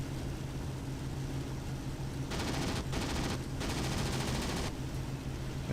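A Ki-100 fighter in the IL-2 1946 flight sim over Iwo Jima, fighting F6F Hellcats, fires its guns in two dense rattling bursts over the steady drone of the aircraft engine, loud and close.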